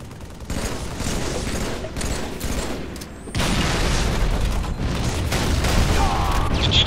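Gunfire in the Halo 3 video game during online multiplayer: dense, continuous bursts of rapid shots and booms, loud and sustained throughout, with a brief lull near the middle.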